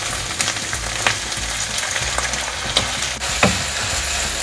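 Sizzling and frying in a pan as tomatoes are sautéed with onion, chilli and ginger-garlic paste for restaurant-style butter chicken, a steady close hiss broken by occasional scraping stirs.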